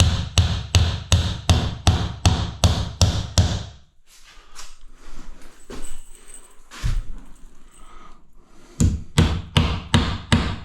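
A hammer nailing timber above a bath, with sharp loud blows in two quick rhythmic bursts of about eight strikes each, separated by a quieter stretch of scattered knocks and handling noise.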